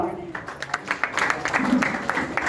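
Scattered hand claps from an audience at the inauguration of a community hall in Risali, Bhilai. The claps are sharp, uneven and moderately close, and a person talks over them.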